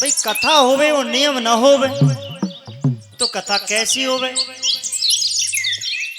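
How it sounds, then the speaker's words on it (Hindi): Birds chirp and tweet in a banyan tree above an outdoor religious discourse. Quick high chirps scatter throughout, partly under a man's loud, sing-song speech. "भैया बट वृक्ष पे तो चिड़ियां बहुत बोल रही हैं।"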